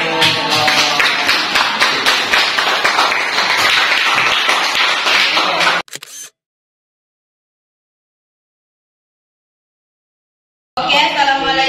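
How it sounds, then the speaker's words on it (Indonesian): Classroom audience clapping during an Islamic studies lesson presentation, loud close-up rapid claps for about six seconds, then abrupt silence before sound returns at the end. "Tepuk tangan untuk"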